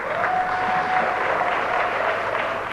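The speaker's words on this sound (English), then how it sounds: "Please, a round of applause for them too." Applause from an audience at a Ghanaian presidential launch event, a steady dense wash of clapping held at even loudness throughout, with a faint tonal hum running beneath it.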